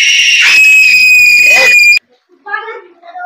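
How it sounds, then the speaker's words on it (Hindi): A young girl screams loudly and shrilly at her brother for about two seconds, close and piercing, then breaks off into a brief pause before fainter childish voices follow. "आप चिल्ला रहे हैं अपने भाई पे"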